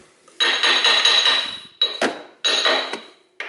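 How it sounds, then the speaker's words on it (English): A hammer taps on the crankshaft pulley of a 1992–2002 Toyota Corolla during a timing belt replacement, giving bright metallic ringing hits in three quick clusters of rapid strikes, close and loud, with short pauses between. "I have hammer and I carefully hammer that in here"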